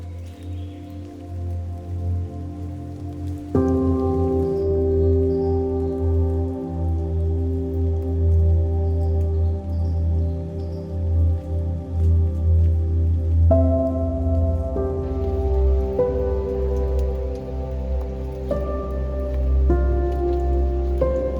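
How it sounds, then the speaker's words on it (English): Steady rainfall pattering all around in a rainforest on the Gold Coast, Australia, continuous and fairly loud, with a low sustained hum underneath and no voices. "The rainforest is the perfect place to go when it's raining."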